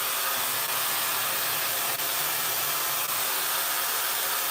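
A hot blow dryer roars continuously and loud at close range while drying a quickweave with beach blowout bundles, a steady airy whoosh with no talk.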